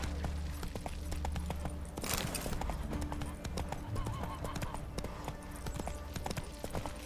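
Roach, a horse in The Witcher 3, gallops with a steady rapid clatter of hooves over continuous background game sound, fairly faint and unbroken throughout.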